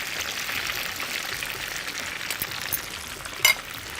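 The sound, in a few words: frying food in a pan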